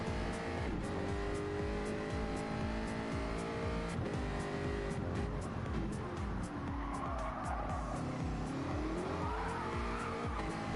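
Jaguar race car at Mount Panorama accelerating hard with tires squealing as it struggles for traction, a loud continuous engine roar rising and shifting in pitch, with no voices.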